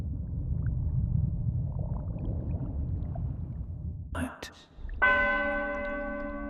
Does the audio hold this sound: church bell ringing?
yes